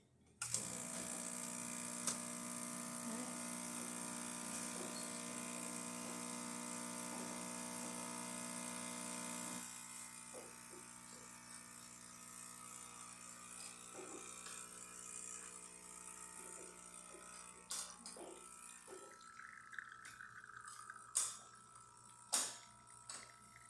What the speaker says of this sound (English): So now I'm just going to pull a shot just to show that the machine is working properly.